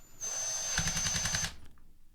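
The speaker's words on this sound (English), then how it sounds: "I press my trigger, apply force to the chuck, the clutch kicks in and stops the bits from turning." Ryobi cordless drill whirring, then its clutch slipping in a rapid series of loud ratcheting clicks for about a second before the motor stops, close by with no speech.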